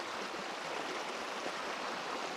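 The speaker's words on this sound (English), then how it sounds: "Here's a look at the tributary. It's honestly just about as big as the main creek." A creek tributary nearly as large as the main creek flows with a steady, close, full rush of water that never lets up, and no voices are heard.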